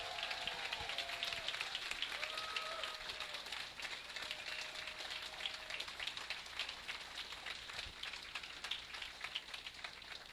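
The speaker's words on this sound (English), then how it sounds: "Let's have another round of applause for all of our Nunki men." A room of people applauds graduating software engineering students at their final project presentations, a continuous even rain-like patter of clapping, fairly soft and steady throughout.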